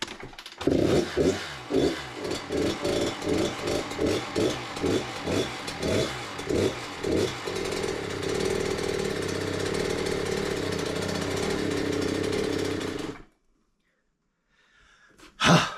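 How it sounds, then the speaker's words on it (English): A Kawasaki KX85 dirt bike engine running rich revs in rapid pulsing bursts, then holds a steady rough drone before cutting out abruptly into near silence, loud and close. "Okay, it runs. So it's running rich."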